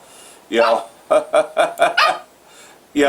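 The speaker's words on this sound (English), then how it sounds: "of course, that's my puppy" Puppy barking in a quick series of sharp, close yips and barks, one lone bark followed by a rapid cluster of four or five, then another after a brief pause.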